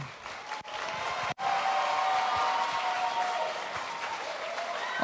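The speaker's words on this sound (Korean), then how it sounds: "이 박수 끝까지 유지해 주시면 감사하겠습니다" An audience of parents at a school admission briefing applauds in a sustained, even patter of many hands, moderately loud in an indoor hall, with a sharp break near the start.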